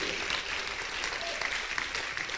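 A church congregation applauds to praise God during a Spanish-language sermon, a steady, fairly faint wash of clapping that holds throughout with no voices over it.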